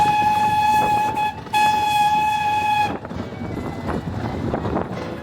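Heritage railway train heard from on board, a loud steady whistle sounding over the rolling carriage noise, then the rumble and clickety-clack of the wheels carrying on alone.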